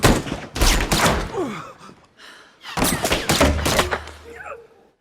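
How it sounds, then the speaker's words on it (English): Action-movie gunfire in two loud bursts of rapid shots, with ricochet-like whines and bullets flying, separated by a short quieter gap, close and dominant. "I like Eddie running across, dodging the bullets"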